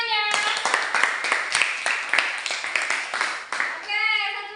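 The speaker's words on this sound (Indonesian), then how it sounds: "Tepuk tangannya." An audience claps in a quick, even burst of hands at an indoor gathering, loud and close, with voices heard just before and after the applause.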